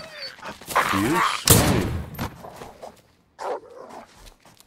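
A dog in the survival game DayZ yelps and whimpers in short bursts, loud and close, while someone speaks over part of it.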